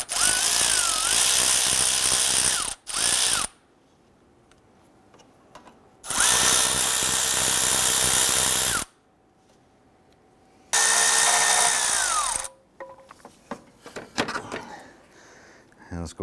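Power tool loosening and removing AC condenser bolts on a 2012-2017 Toyota Camry: three loud, near drill-like bursts of about two to three seconds each, with winding pitch changes, separated by quiet gaps and ending with light clatter.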